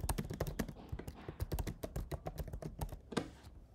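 Rapid, uneven clatter of keys on a computer keyboard as a comment is typed, close and clear with no voices, ending in a slightly harder keystroke.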